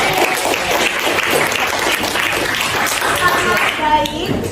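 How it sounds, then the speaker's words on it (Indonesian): Classroom applause for students who presented their chemistry work: dense, steady clapping from many hands runs through the whole stretch, loud and close, with a few voices mixed in. "Beri aplaus semuanya untuk yang sudah maju."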